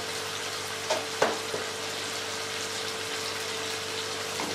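Cumin seeds and black pepper sizzle in hot oil in a pan while cooking chicken with cauliflower, a steady moderate hiss with a couple of brief clinks and stirring touches near the start.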